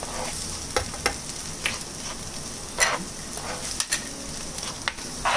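Red and green chili sauté in a hot pan, a steady close sizzle broken by occasional scrapes and clicks of stirring.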